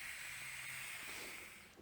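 Steam hisses from the open cylinder drain cocks of a steam locomotive on a miniature railway, a steady, faint, airy hiss that holds evenly before tapering slightly at the end.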